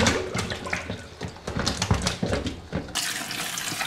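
Fresh chili peppers being rinsed by hand under a running kitchen tap, with a continuous splashing, gushing stream and sloshing water close by, changing in tone as the peppers are moved.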